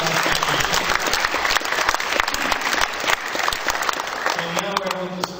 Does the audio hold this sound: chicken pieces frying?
no